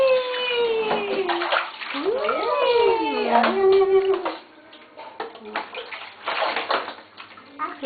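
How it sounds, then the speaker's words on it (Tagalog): Water sloshes and splashes in a bathtub as a child bathes, with excited children's voices and shouts over it nearby, then softer splashing and chatter. "I'm taking a bath!"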